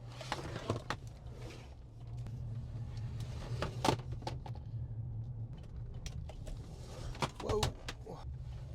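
A Starlink dish slides around on a car dashboard while driving, giving faint scattered knocks and scrapes over a low road hum, with a brief exclamation from a voice.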